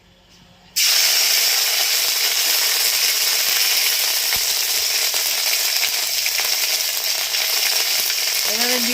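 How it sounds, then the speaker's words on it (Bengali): Ginger dropped into hot oil in a kadai bursts into a loud, steady sizzle that starts abruptly and holds evenly, close and without talk. "এই তেলে দেবো আদা"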